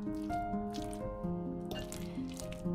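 Currants being gently stirred into a soft mixture of chicken fillets with blue cheese, soft wet squishes and drips close by, with a faint tonal ring underneath.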